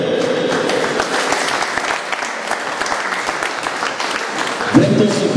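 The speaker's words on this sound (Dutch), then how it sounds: "Applaus voor Anke!" A live audience applauds steadily during a team presentation of a women's cycling squad, dense sustained clapping throughout with a voice over it near the end.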